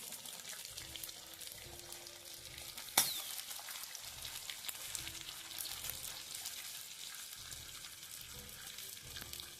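Onion frying with coconut in a pan for chicken gravy, a soft, fairly faint steady sizzle with a sudden sharp clatter early on and light rhythmic background noise, no speech.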